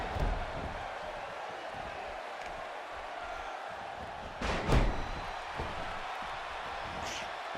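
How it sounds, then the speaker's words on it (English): Arena crowd in the WWE 2K17 wrestling video game, a dense continuous roar of spectators with a brief louder surge midway and a thud, steady and loud throughout. "Would you listen to this crowd?"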